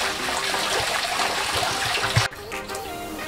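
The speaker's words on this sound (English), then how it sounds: "it's overflowing out of the side of the weir on the tank" Water from a cold water storage tank spills over the side of the weir in a steady, rushing stream, a continuous close wash of splashing flow that briefly drops away near the end.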